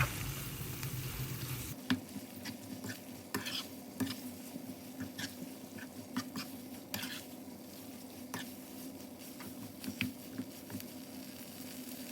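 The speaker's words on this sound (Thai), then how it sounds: "ใส่เนื้อหมูลงไปเลยจ้า ผัดหมูให้สุกนะคะ" Pork stir-fries in a pan for a Thai red curry with eggplant, a steady sizzle punctuated by regular clinks and scrapes of a spatula against the pan, close up, no speech.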